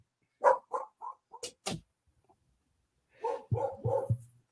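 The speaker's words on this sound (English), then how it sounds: "Dog." A dog barks in a few sharp, separate yelps, then a closer run of several deeper barks follows after a short pause. No other sound competes.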